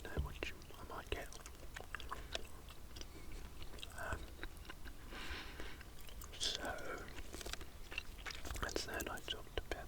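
PK chewing gum is chewed close to the microphone in a quiet room, giving soft, wet smacks and clicks in an irregular rhythm, with a whispering voice speaking over and between the chews.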